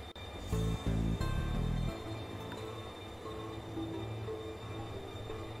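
Ghostly green, transparent train in a video game, a low rumbling rush with several heavy pulses in the first two seconds before settling into a steady droning hum.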